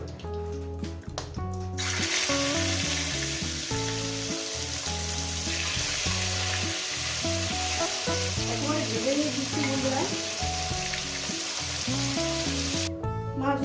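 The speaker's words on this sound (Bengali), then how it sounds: "ভাজা হয়ে গেছে বাদ বাকি মাছগুলো আমি দিয়ে দেবো" Fish fries in oil with a loud, steady sizzle that fills the stretch, joined by irregular stirring clatter and utensil knocks close up. Brief handling noises mark the start and end.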